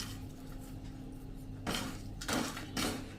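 Dry ginger powder is stirred on a hot griddle over a switched-off gas stove. A steady low hum is followed by three short scraping rasps of a spoon against the pan.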